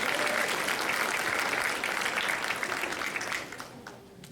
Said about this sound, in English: A round of applause, please. A round of applause.